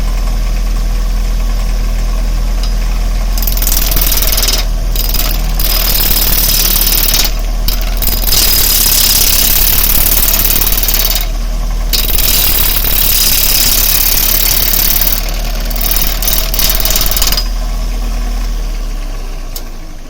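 A wood lathe spins at 600 to 800 RPM, giving a loud, steady mechanical drone with a low hum and broadband whirring, briefly dipping at intervals, with no one talking.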